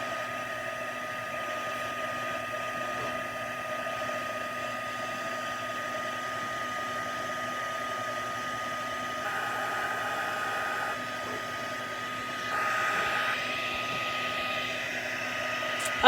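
A heat tool blows steadily on puff paint in a craft stamping session, a continuous whooshing hum like a hair dryer that runs unbroken throughout, with a brief rise in intensity near the end.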